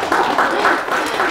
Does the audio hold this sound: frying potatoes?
no